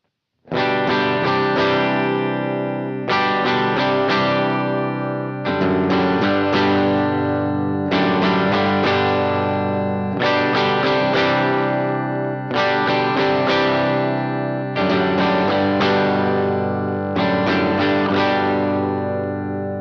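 Distorted electric bass playing a repeating riff through a Westminster Effects Geneva amp sim with reverb and a Swingley STD preamp, amp-style grit and a wash of reverb, steady and loud, in several looping phrases with no voices.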